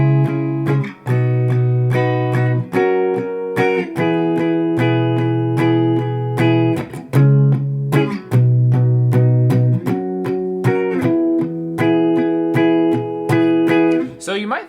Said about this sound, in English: I'm doing this on an electric guitar.